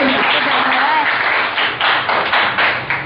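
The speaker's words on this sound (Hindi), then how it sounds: "जोरदार तालियां सभी के लिए।" Audience applause at a school personality development program in India, a dense steady wash of clapping from a crowd, loud and sustained for about three seconds with slight swells, no clear talk over it.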